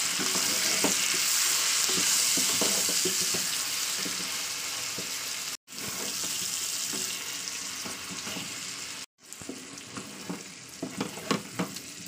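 Turmeric masala sautéing in a hot pan gives a dense, continuous close sizzle with crackles, briefly cut off twice, then thinning toward the end as stirring scrapes and taps come through.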